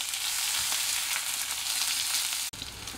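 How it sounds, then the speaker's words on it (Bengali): Sliced onions fry in hot oil in a pan, browning toward golden, giving a steady bright sizzle close up with a brief dip near the end, no talking. "পেঁয়াজটা আমি গোল্ডেন ব্রাউন করে ভেজে নেব।"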